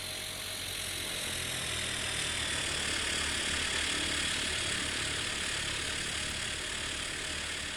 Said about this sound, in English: And we finally have some engine noise.